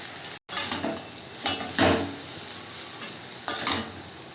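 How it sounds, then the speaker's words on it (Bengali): Boiled chow mein noodles are tossed with already-fried vegetables in a hot pan, a constant loud sizzle broken by several sharp scraping stirs, with no voices. "এর মধ্যে আমি এই সিদ্ধ করে রাখা চাউগুলো দিয়ে দেবো।"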